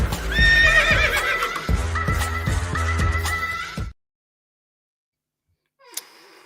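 A horse neighing sound effect: a loud, close whinny with rising and falling pitch lasts about four seconds, then cuts to silence before a short faint click near the end.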